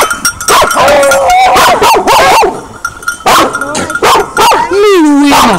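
A dog barks repeatedly and loudly close by, with yips and a rising whine, in a continuous agitated burst lasting several seconds.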